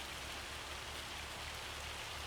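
Steady rainfall in the Farming Simulator 25 farming game, a soft, even hiss of rain with no talk.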